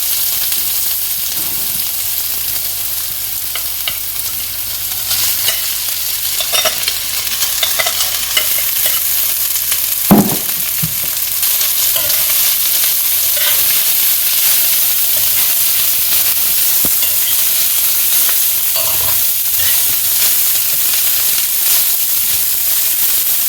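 Onions and rice sizzle steadily in a hot pan, a constant frying hiss with occasional soft scrapes and clinks of stirring.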